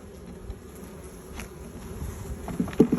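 Honey bees from rescue hives buzz around an opened hive, a faint continuous drone in the background with a few louder close passes near the end.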